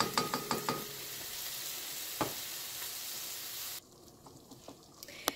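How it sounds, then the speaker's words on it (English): Thick refried beans bubble and sputter in a pan with a steady sizzling hiss, punctuated by scraping and clicking stirring sounds, fairly quiet. "So just keep letting it boil, stir it up."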